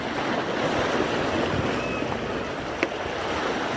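Sea water washes steadily around rocks as waves surge in a continuous roar, with wind buffeting the microphone and one brief knock late on.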